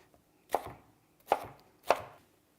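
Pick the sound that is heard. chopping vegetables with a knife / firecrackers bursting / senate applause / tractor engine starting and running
chopping vegetables with a knife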